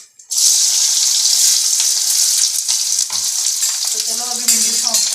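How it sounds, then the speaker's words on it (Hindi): Onions and okra frying in a pan with ajwain tempering, a loud, steady, close sizzle that bursts in suddenly and hisses on continuously, with some faint clinks near the end and no speech. "तो चलो अभी भिंडी छोंकते हैं। मैंने प्याज डाल दिए"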